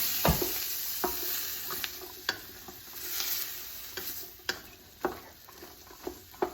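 Vegetables and garlic sauté in a pot as the base for chicken and rice soup, a soft continuous sizzle broken by periodic scraping stirs against the bottom, close and fairly quiet.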